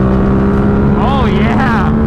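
A 2024 Suzuki GSX-8R motorcycle accelerates hard in third gear, its steady engine drone climbing in pitch toward redline, loud and close under wind noise.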